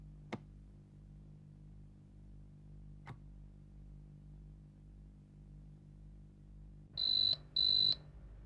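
A telephone rings in an indoor scene, two loud electronic buzzing rings in quick succession after a quiet stretch broken by a couple of faint clicks.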